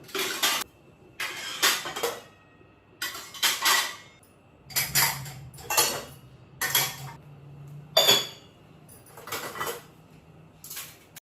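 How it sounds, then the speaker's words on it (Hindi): Someone putting away a batch of morning dishes and utensils at home, with repeated clattering bursts of steel cutlery and pots being set down close by, separated by short pauses. "तो ये सारे सुबह के बर्तन हैं, पहले मैं इनको रखूँगी"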